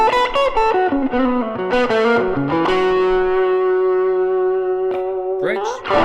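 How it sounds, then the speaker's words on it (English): A guitar plays through a small Fender '57 Champ style amp with a light overdrive, a run of quick notes settling into a long sustained ringing chord, then a few short strums and a slide at the end, loud and close with no talking. "I don't like a lot of distortion coming from these small amps, so I have a really light overdrive setup"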